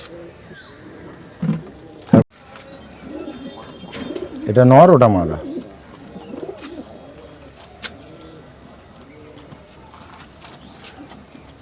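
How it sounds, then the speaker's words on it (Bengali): Rampuri desi pigeons give a soft, throaty coo around the middle, fairly close, amid quiet shuffling and a couple of sharp knocks, while someone speaks briefly. "ধরে রয়েছে রামপুরি দেশি পায়রা"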